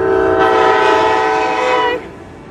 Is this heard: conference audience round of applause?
no